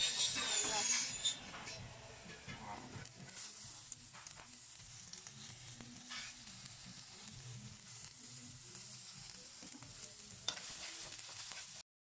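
Chopped garlic fries in a little oil in a pan for a lumpia filling, giving a soft, steady sizzle with faint stirring scrapes throughout. It is quiet and has no talking.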